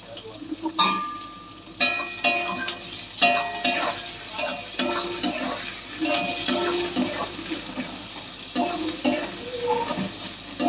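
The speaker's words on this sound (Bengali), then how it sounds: "লাল লাল করে পেঁয়াজটা ভেজে নেবো" Onions frying in a pan while morning aloo dum is cooked to go with luchi, the oil sizzling steadily as a spatula stirs and scrapes in repeated strokes, close and loud with no talking.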